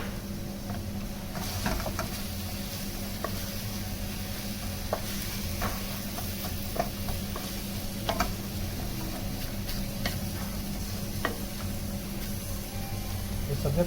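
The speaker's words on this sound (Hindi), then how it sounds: "इसके अंदर बंद गोभी जाएगी और साथ हरा प्याज भी।" Cabbage and green onion cooking in a pan, a steady soft sizzle with the scrape and tick of a utensil stirring at irregular intervals, close and moderately loud throughout.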